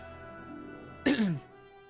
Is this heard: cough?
yes